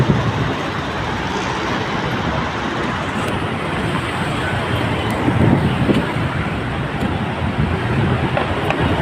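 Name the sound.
traffic noise on a road in Bicutan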